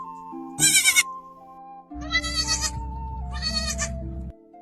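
Goats bleat close by in three loud, wavering calls separated by short pauses, over a light musical background.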